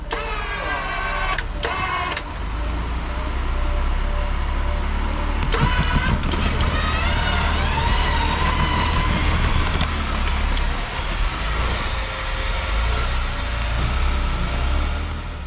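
A Jeep engine labours in low gear while crawling over a log on a snowy trail with the winch loaded, a steady close drone with rising and falling revs and a few sharp knocks early on.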